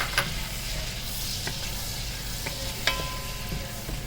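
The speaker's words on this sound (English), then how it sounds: "To the butter, we add 2 tablespoons of flour." Butter and flour roux for mac and cheese cooking in a pan, a steady soft sizzle with occasional stirring scrapes and light clicks, close and continuous with no talk.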